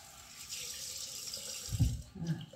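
Tap water runs into a sink while hands are wetted, a soft steady hiss that turns into a brief closer splash near the end, with no talking.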